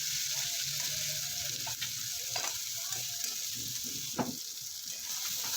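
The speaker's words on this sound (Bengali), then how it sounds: "মিনিট লো টু মিডিয়াম ফ্লেমে রেখে টমেটোটাকে গলিয়ে নিতে হবে, পেঁয়াজটাকে নরম করে নিতে হবে" Onion and tomato soften in a pan over a low-to-medium flame, a faint steady sizzle with occasional soft scrapes and knocks of a stirring spoon, plus a brief louder clink near the end.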